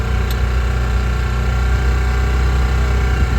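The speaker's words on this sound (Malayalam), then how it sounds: "അപ്പോൾ നമ്മുടെ ഡ്രൈവറായിട്ട് ബോട്ട് സ്റ്റാർട്ട് ചെയ്തിട്ടുണ്ട്." A motor boat engine runs steadily on a boat ride at Poovar near Trivandrum, a loud continuous droning hum with low vibration that stays constant throughout as the boat sets off.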